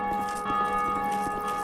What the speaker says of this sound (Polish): Biję w dzwon i...